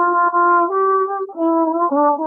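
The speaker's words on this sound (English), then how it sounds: "If you're looking for something a bit warmer, something mellow, then you should maybe try the wooden mutes." A low brass instrument fitted with a wooden mute plays a short solo phrase of sustained, mellow notes stepping between pitches, close and alone with no talking.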